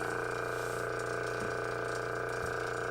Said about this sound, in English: That's how you know you have a good suction when you're right back here near the vacuum.